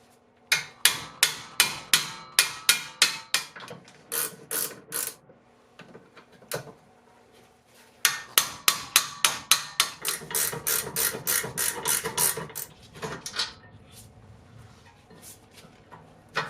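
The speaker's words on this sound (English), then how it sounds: "I removed the two caliper bracket bolts with a 17mm ratcheting wrench." A 17mm ratcheting wrench loosens the caliper bracket bolts on the rear brakes of a 2004 Infiniti G35X, heard as two bursts of quick, evenly spaced clicking close by with a short pause between them.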